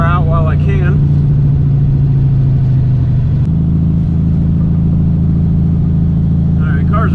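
A classic Volkswagen Beetle engine runs steadily while driving, a low continuous drone that shifts slightly in pitch midway, with a voice talking briefly at the start and again near the end.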